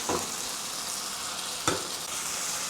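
Marinated beef spread in a single layer sears in a wok over medium-high heat, giving a steady broad sizzle with a couple of brief scrapes or stirs, close and alone without talk.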